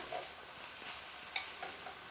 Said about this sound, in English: So that's frying nicely.